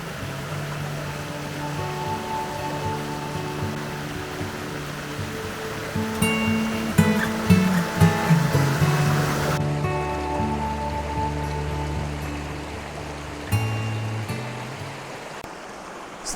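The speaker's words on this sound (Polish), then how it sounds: "Spływa sobie więc z gór potok" Steady rushing and burbling of a flowing mountain stream, fairly close, with a brief rise in splashing partway through and some faint clinks over the top.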